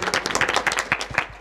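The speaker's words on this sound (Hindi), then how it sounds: "नेमीचंद जी जोरदार तालियों से अभिनंदन करें" Loud applause from a crowd at a welcome and honour ceremony for Nemichand ji, crisp rhythmic clapping close by and a faint voice underneath.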